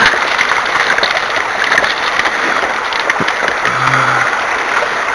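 Water and gravel gurgle and slosh up through a clear plastic HDP hand dredge pulled by hand over stream bedrock, a steady loud rushing wash with faint clinks.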